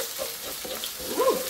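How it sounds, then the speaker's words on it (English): Shallots stir-fry in hot oil for fried rice noodles, giving a short, close sizzle with a light stirring scrape near the end. "The shallots. Give it a quick stir."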